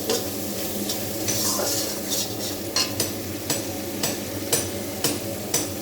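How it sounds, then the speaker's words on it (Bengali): Onion, garlic, ginger, tomato and chili spice paste sautéing in a pan, a steady sizzle with a regular series of spatula scrapes and taps, close and fairly loud, no voices. "এখানে পেঁয়াজ, রসুন, আদা, টমেটো, লঙ্কা সব দিয়ে মশলাটা দিয়ে কষিয়ে নিচ্ছি।"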